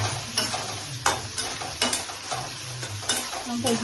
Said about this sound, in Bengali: দিয়ে এভাবে পনিরগুলোকে ভেজে নিচ্ছি